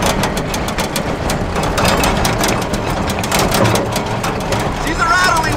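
A Cat 259D open-cab compact track loader engine idling with a loose, rattly clatter, a continuous close diesel rumble with rapid metallic knocking, someone talking briefly over it.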